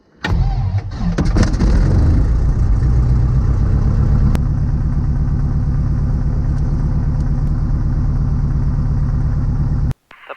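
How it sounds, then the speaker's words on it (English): A light aircraft's propeller engine cranks and catches loudly, then settles into a steady, rhythmic idle close by before cutting out abruptly at the end. "We're starting the engine."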